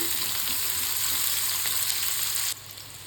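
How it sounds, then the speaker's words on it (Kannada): Three medium onions, sliced lengthwise, fry in hot oil for a paneer fried rice, giving a steady close sizzle that drops to a quieter hiss near the end. "ಈರುಳ್ಳಿ ಚೆನ್ನಾಗಿ ಫ್ರೈ ಆಗಲಿ."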